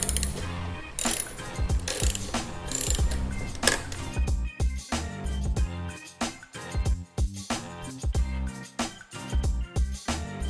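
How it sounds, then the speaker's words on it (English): Close ratchet undoing small 4mm bolts on a Harley headlight, a steady run of loud, fast pawl clicks in rhythmic strokes throughout, alone with no talk. "you're going to be using the ratchet beside it"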